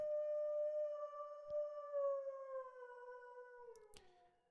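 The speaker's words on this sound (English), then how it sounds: "A howl of an animal." An animal howls in the Tsukihime Remake visual novel, one long, high, dog-like wailing cry that slowly falls in pitch and fades, with a faint click partway through and a sharp tick near the end.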